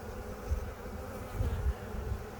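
Honey bees buzz around an open beehive during an inspection, a continuous low droning hum with slight swells, close and moderately loud, with no talking.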